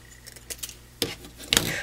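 Scissors snipping through card stock while making a folded card, two or three short crisp cuts close by with light handling clicks between them and no talking.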